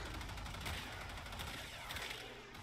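The Pandero Prime pistol in Warframe fires burst shots in a rapid, dense stream of sharp cracks, steady and continuous amid game effects, fairly faint overall.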